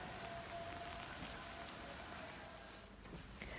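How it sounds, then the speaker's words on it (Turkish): Rain falling steadily outside a small wooden-style tiny house in Sapanca in October, a soft continuous patter with faint drips, fairly distant and quiet, with no voices. "Butik Evler Sapanca'ya ulaştığımızda yağmurluydu."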